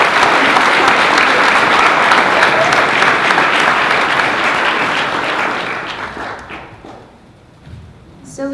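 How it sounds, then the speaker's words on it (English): An audience at a school board meeting applauds young students, giving loud, sustained clapping that tapers off after about five seconds, leaving a few scattered claps and quiet room noise. "Can we just give one more very big round of applause for these very brave young"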